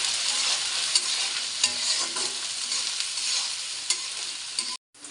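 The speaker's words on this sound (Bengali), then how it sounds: "শুটকিটা একটু তেলে ভেজে নেব সুন্দর মতন।" Dried fish (shutki) sizzles steadily in hot oil in a pan, with a constant bright frying hiss and occasional stirring scrapes, close and continuous until it cuts off abruptly.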